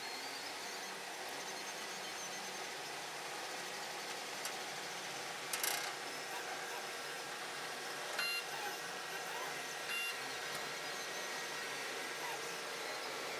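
A 3D printer works through the end of a print job, a faint steady mechanical hum with a few brief higher beeps and ticks scattered over it.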